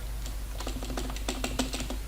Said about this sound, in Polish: Sorry za głośną klawiaturę